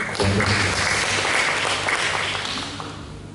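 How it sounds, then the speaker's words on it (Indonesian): Church congregation applause during a Sunday sermon, a loud, sustained wash of many hands clapping together that fades slightly at the close, with a low hum beneath. "berikan tepuk tangan"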